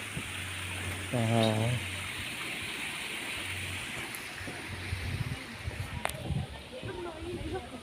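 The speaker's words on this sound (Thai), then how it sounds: "ข้างล่างก็มีน้ำตกครับพี่น้องครับ" The waterfall below the Sirindhorn Dam skywalk in Thailand gives a steady, far-off rushing wash beneath someone talking loudly nearby.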